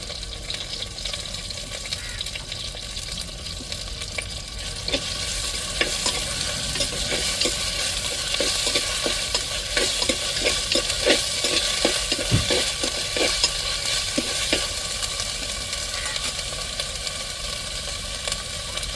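A ground paste of ginger, garlic and shallots sizzles and is stirred in hot oil in a pan for squid curry, a continuous frying hiss broken by a run of spoon scrapes and taps against the pan.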